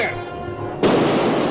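A ship's cannon fires in a 1945 pirate film, a single loud booming blast that follows a shouted command and rolls on with a broad rumbling tail.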